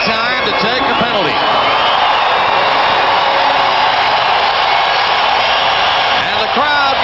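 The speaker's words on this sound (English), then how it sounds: "And the crowd getting into it now." A hockey arena crowd roars at the 1989 playoff first round, Game 6 between Calgary and Vancouver, a loud steady wash of noise throughout, with a commentator talking over it at the start and end.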